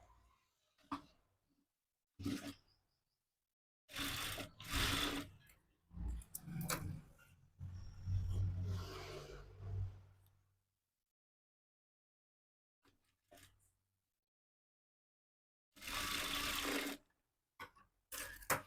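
A sewing machine stitching the side seam of a size-34 boat-neck blouse, running in several short bursts of whirring separated by silent pauses, close and fairly quiet.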